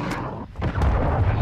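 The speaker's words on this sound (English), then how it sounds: "Hostile cruise missile incoming." A cruise missile strike in the shooter game Call of Duty: Modern Warfare II lands as a heavy rumbling blast after a brief dip, followed by a sustained loud booming roar.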